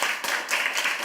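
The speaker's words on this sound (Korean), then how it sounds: "박수 한번 주세요. 두 친구에게." Church congregation applauding two children, a dense burst of clapping that fills the whole short moment at close range.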